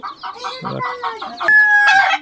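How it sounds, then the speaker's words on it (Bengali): A Polish cap rooster crows loudly and close by, one long cock-a-doodle-doo call made of several choppy notes, with no talking over it. "এরপরে আমরা পলিশ ক্যাপের মোরগটা দেখব"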